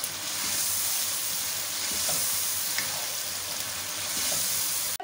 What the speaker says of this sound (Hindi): अब इन मसालों के साथ हमें 2 से 3 मिनट तक अच्छे से भूनना है।